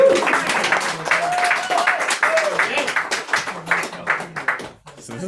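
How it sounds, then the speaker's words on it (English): An audience applauds at a poetry reading, a dense patter of many hands clapping, lively and close, with voices talking and cheering over it before it thins out near the end. "Big round of applause."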